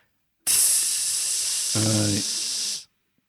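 A voice imitates steam with a loud, steady hiss lasting over two seconds, joined midway by a brief voiced buzz before cutting off into silence.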